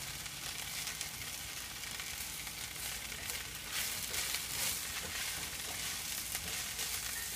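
Vegetables for a hearty soup sizzle steadily and loudly in a hot pan, a continuous close hiss and crackle with no break.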